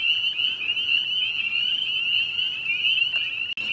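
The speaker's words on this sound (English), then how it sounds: "Hearing the peepers is a sure sign of spring." Spring peeper frogs call at a park pond, a dense, loud chorus of high piping peeps overlapping into a continuous shrill ring that barely lets up.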